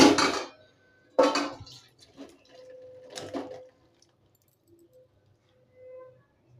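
Cooked gathi kochu and hilsa curry being poured out of a pan, a few separate clanks and scrapes of metal on metal with quiet gaps between, close by.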